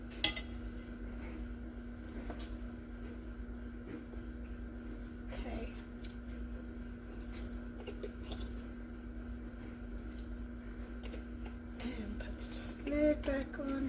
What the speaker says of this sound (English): So, 1 cooking spoon, or rather a serving spoon full of honey. We're going to whisk that in there.